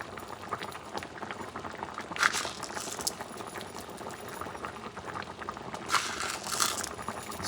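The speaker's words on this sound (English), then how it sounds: "when it's boiling, you start adding some of the barley" Bison stew with barley boils steadily in a pot, a close, continuous bubbling and popping with a few louder bursts, and no one speaking.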